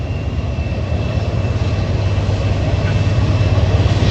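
A Norfolk Southern freight train on the Pittsburgh Line passes as a steady, loud low rumbling drone that swells slightly toward the end, with no voices.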